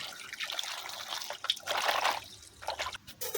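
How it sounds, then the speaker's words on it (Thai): Soaked winter melon pieces rinsed in water, a close, continuous splashing and trickling that swells and eases over a few seconds, with no talking. "ครบเวลาสองชั่วโมงก็มาล้างค่ะก่อนจะไปเชื่อมค่ะ"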